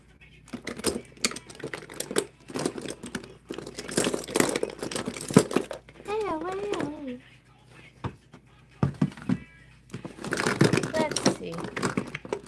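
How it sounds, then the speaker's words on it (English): Makeup products and compacts rattling and clicking as they are rummaged through in a cluttered container, a series of close, scattered knocks and crinkles in bursts with short pauses, while a voice hums or sings briefly in the middle. "you'll hear a lot of shuffling just because I kind of just throw things in here"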